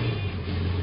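A jet ski engine runs at a steady idle in a low, droning hum with a faint upper rattle, close and continuous with no voices.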